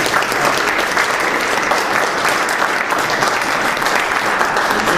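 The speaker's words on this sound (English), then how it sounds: "Let's give a round of applause for our" Loud, close applause from an audience at a culture council panel discussion, steady dense clapping sustained throughout with no break.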